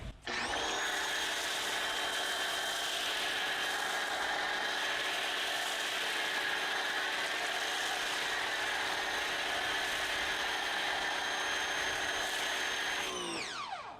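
A steady, loud mechanical whine with a droning hiss from a budget ProXOne foam cannon with an upgraded orifice spraying soap runs continuously for over ten seconds, then winds down at the end.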